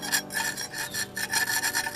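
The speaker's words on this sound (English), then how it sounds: "You can see here how easily the cement scrapes off," A tool scrapes day-old cement off natural flagstone on a walkway and stair build, with quick, repeated gritty rasping strokes, close and fairly loud, with no talking.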